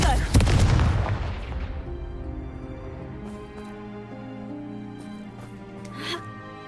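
A Hogwarts Legacy Confringo blasting spell detonates in a loud, sharp boom with a heavy crack and rumbling tail, followed by lingering game music and faint effects.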